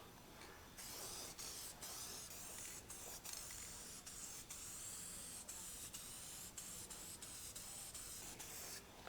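A spray gun lays a light fog coat of paint on a 1964 VW Ghia, giving a continuous close hiss broken by many short pauses as the trigger is released and pressed again.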